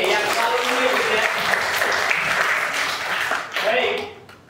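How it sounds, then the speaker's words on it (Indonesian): A classroom of grade 10 students applauds, a dense wash of clapping that holds steady for about four seconds before fading out, close and fairly loud. "Tepuk tangan untuk kelas 10 E yang selalu hadir."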